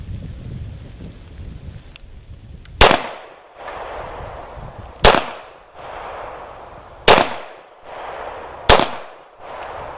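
Rock Island 1911 pistol in 10mm fires four sharp, loud shots spaced about two seconds apart outdoors, each crack followed by a brief echoing tail, with no talking.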